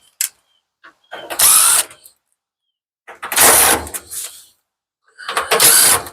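Screws being backed out of a Samsung dryer's top panel with a tool, three separate loud bursts of mechanical whirring and ratcheting, each lasting under a second, with quiet gaps between.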